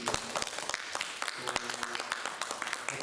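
A church congregation clapping for visiting guests, a moderately quiet, scattered patter of hands with individual claps standing out, and voices talking underneath.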